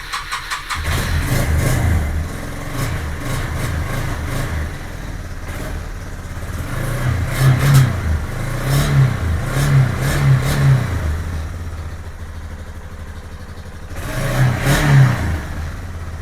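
A 2001 Yamaha Bear Tracker 250cc ATV engine cranks and catches about a second in, then runs loud and close, with several throttle revs rising and falling over a steady idle.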